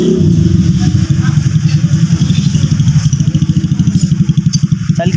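A motorcycle engine runs close by, starting with a rough rev and settling into a steady, rapid, pulsing idle chug that lasts throughout with no voices.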